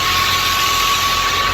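A 65-horsepower Al Ghazi tractor, 2005 model, runs at a steady idle beside a wheat thresher, giving a loud, unbroken low drone with a constant whine and no talk.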